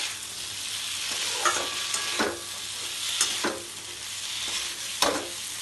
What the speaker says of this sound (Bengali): এইভাবে লো ফ্লেমে আস্তে আস্তে করে নাড়তে থাকবে।